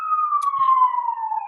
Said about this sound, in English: You could hear those sirens in the background.